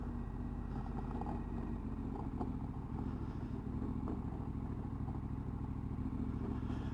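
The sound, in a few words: KTM motorcycle riding off-road on heavy gravel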